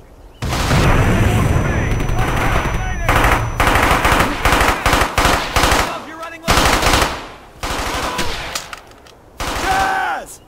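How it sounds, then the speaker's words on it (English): Automatic and rifle gunfire in the Brothers in Arms war game, loud sustained bursts of machine-gun fire broken by short pauses and single shots, with shouting soldiers' voices mixed in. "Don't stop firing!"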